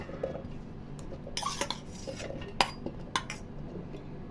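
Washed taro root dropped into a steel grinder jar in a home kitchen, light metallic clinks and clatters, a few sharper knocks near the end, close and fairly quiet.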